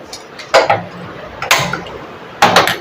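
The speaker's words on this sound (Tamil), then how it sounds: "இப்போ கேஸ் ஸ்டவ் ஆன் பண்ணிக்கிறேன்" Three sharp clicks spaced about a second apart, loud and close, from a gas stove igniter being pressed.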